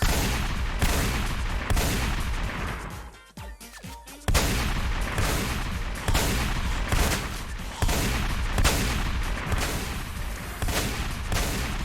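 Video game gunfire from a P90 and a pump shotgun plays as loud, rapid repeated shots in bursts, broken by a brief quieter gap partway through, with no speech.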